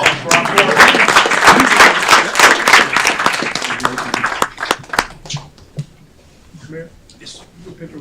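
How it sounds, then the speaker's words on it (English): Applause from the audience at a city council meeting honoring the board, a dense burst of many hands clapping that fades out after about five seconds, leaving scattered claps and faint murmuring. "another round of applause for our board."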